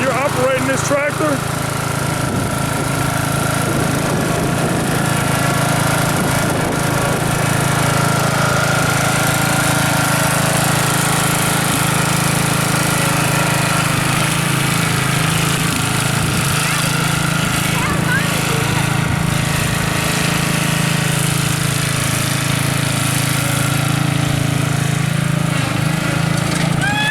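A farm tractor's engine runs steadily and loud up close, a continuous droning rumble with a knocking edge that holds for the whole stretch, with people talking over it.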